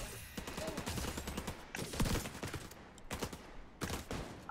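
Gunfire in The Division 2 comes as several separate sharp shots at moderate loudness, spaced irregularly over a few seconds against background game ambience.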